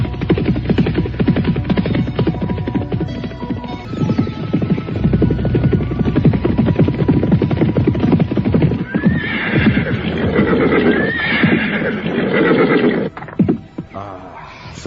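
Horse hooves clip-clop steadily through a period audio drama set in old Java, with a horse neighing and whinnying loudly near the end, all up close and without talk.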